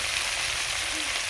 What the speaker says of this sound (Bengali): পেঁয়াজের সঙ্গে চিংড়ি মাছ এবং মাছের তেল ভালো করে ভাজা হয়ে গেছে